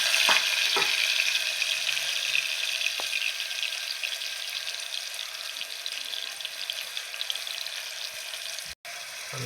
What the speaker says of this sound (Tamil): ஒரு நாலு வெங்காயம் சின்ன சின்னதாக பொடியை கட் பண்ணி சேர்த்துக்கலாம்